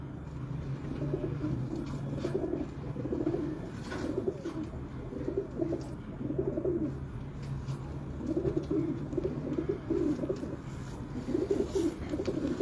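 Shah Parwazi pigeons in Lahore coo in soft, repeated throaty phrases, several birds overlapping in a steady rhythm close by.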